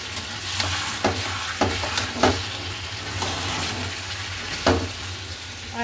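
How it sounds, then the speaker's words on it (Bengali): Papaya and potato being stir-fried in a pan: a continuous sizzle punctuated by several sharp scraping clacks of a spatula against the pan at uneven intervals. "তো দিয়ে দেবো এতে পেঁপে আর আলুটা, এটা দিয়ে ভালো করে কষিয়ে নিই।"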